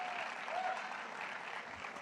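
An audience at the SDI Finals gives a round of applause, with a full, even wash of many hands clapping together throughout the short burst.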